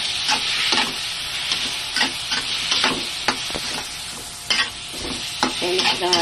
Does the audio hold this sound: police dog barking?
no